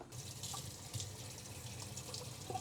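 Water runs steadily into a freshly repotted plant on a tree fern and moss substrate, a soft continuous splashing flow that is faint and close, with no speech.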